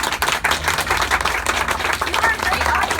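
Audience clapping at a book opening at Underground Books, a dense, steady patter of many hands filling the room at close range, with voices mixed in beneath the applause.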